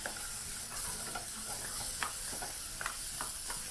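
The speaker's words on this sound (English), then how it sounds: "Proceed to add those to your pot and mix through," Cubed tomato pieces stirred into a frying pot of Kenyan githeri mukimo over medium-low heat, giving a steady close sizzle with scattered soft scrapes and clicks of stirring throughout.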